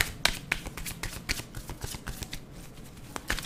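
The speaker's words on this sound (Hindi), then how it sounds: "तो मैं पहले इसको शफल कर लेती हूँ" Tarot cards are shuffled close up, a quick irregular run of soft riffling slaps and taps, quiet and alone.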